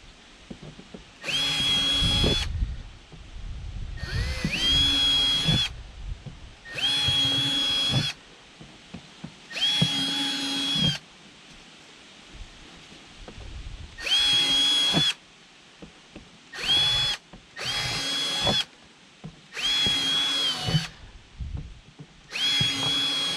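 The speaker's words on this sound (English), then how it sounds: "we've switched to our 1/4 inch drill bit, and we're just going to put about 5 down the side" A power drill fitted with a 1/4 inch bit bores holes into a large black plastic trash can being made into a compost bin, with about ten loud whining bursts separated by short pauses.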